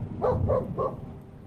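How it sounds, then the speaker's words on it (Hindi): Several dogs barking in the distance at a rural train station at night, three rough barks spaced evenly in quick succession, fairly faint and alone. "दूर कहीं कुत्तों की भौंकने की आवाज आ रहा था।"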